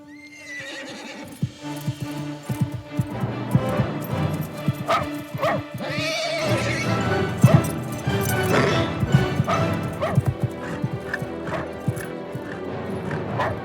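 A horse whinnies and neighs several times while its hooves clop and thud nearby, with scattered clattering knocks and a dog barking in the mix.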